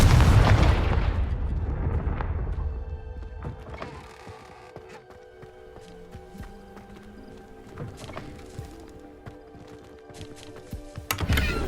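The Confringo explosion spell goes off in Hogwarts Legacy on PS5: a loud burst opens, then decays into a lingering rumble, followed by quieter clinking and ambient game sounds.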